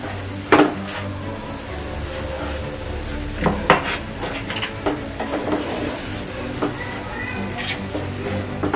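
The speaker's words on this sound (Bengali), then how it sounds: "দিয়ে এই সমস্ত কিছুকে খুব ভালো করে আমি এবার একটু মিক্সড করে নেব।" Spices with coriander powder being stirred in a hot pan for egg lababdar, soft scraping and spoon knocks against the pan over a steady low sizzle, close and moderately quiet.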